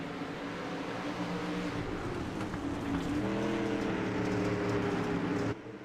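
Race cars roar around the dirt oval at Williams Grove in a Grass Roots Racing Series event, engines snarling and rising in pitch as they accelerate off a corner, loud and sustained, with the sound cutting sharply near the end.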